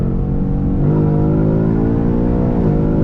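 A Ford Mustang GT with a 10-speed transmission revs hard under full acceleration, its loud engine note climbing steadily in pitch through a gear before dipping briefly near the end.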